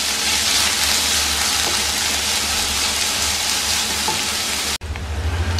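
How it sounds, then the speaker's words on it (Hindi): Two large onions, chopped, sizzle and fry steadily in hot oil in a pan for chicken pasta, a dense continuous crackle that cuts off abruptly near the end. "எண்ணெய் போட்டு வதக்கிக்கலாம்"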